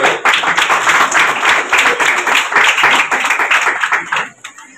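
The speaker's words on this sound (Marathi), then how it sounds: "त्याच्यासाठी जोरदार टाळ्या झाल्या पाहिजे." Loud, sustained applause from an audience at a school event honoring a man's 40 years of service, dense clapping filling the room for about four seconds before tapering off abruptly.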